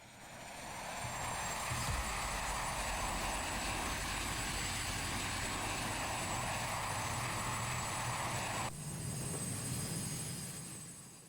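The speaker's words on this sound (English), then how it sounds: "the plane began its takeoff run." An Aeropostal airliner starts its takeoff run with a loud, continuous engine roar that holds steady throughout and shifts slightly in tone near the end.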